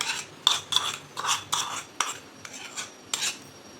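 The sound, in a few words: mixing mango pulp into dough in a bowl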